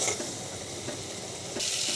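Spice masala with coriander sizzles steadily in hot oil, a continuous close hiss and crackle that swells briefly near the end.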